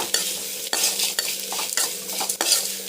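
A utensil scrapes and stirs grated carrot through a hot frying pan in a home kitchen, in repeated rhythmic strokes over a soft background sizzle, with no voices.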